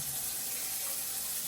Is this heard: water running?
yes